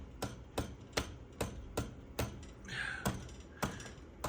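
An old National HRO 500 radio receiver is struck repeatedly, sharp evenly spaced knocks about every half second, close and distinct, with a brief tone rising between the whacks.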